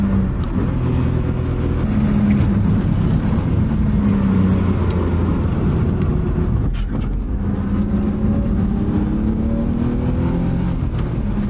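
Cars lap a partly wet race track on a track day, a continuous engine drone with rising and falling revs as the car accelerates and shifts, loud and steady throughout.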